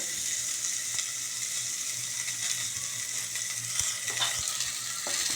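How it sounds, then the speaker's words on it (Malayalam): Chopped large onions sauté in a pan, a soft continuous sizzle with occasional spoon taps and stirring scrapes against the metal, heard close and without any speech. "വലിയ ഉള്ളിയാണ് ഇട്ടിരിക്കുന്നത്. ഇത് നന്നായി ഒന്ന് വഴറ്റുക"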